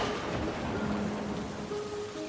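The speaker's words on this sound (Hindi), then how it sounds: "अचानक से तो बहुत जोर से बारिश होने लगी" Sudden heavy rain pours down in a forest as a cartoon sound effect, forming a dense, steady hiss. It stays loud and close throughout, with no voices.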